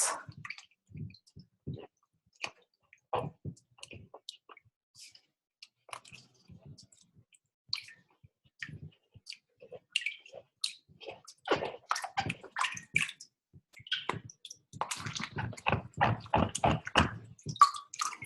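Cut leeks are rinsed in water, producing sparse close splashes, drips and soft squishing that grow busier and denser toward the end.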